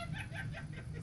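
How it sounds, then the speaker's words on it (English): A pet bird gives a short burst of rhythmic, cackling laugh-like calls, about four quick pulses, heard close but faint in a quiet room. "You guys hear my bird laughing?"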